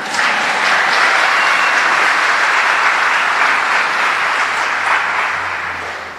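A large congregation at a religious gathering breaks into loud, sustained applause, dense clapping that fills the space evenly and fades slightly at the end.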